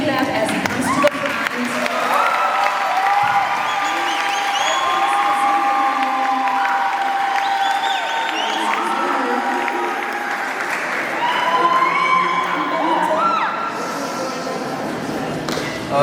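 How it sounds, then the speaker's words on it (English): A seated audience at a school event claps and cheers for a guest speaker walking to the front. Sustained, even applause with scattered whoops carries throughout. "So let's give him a clap as he comes to the front."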